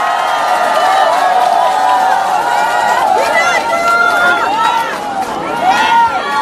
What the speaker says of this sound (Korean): 여러분, 분장의 박수 부탁드립니다